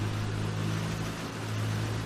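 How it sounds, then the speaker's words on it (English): Steady mid-loud drone of a Cessna C-172 piston engine in the FSX flight simulator, running rough with a knocking fault, holding one unbroken tone throughout with no voices. "You hear that knocking around in the engine?"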